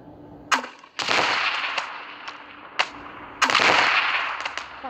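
Explosions and gunfire in the Melon Playground game, a series of sharp bursts and blasts in quick succession with short crackling tails, fairly loud and close with no talk.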